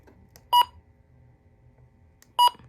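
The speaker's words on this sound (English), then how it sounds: "That's what the button beeps sound like." A handheld weather radio, an HH54 model, gives two short, clear electronic button beeps about two seconds apart, loud and close against a quiet room.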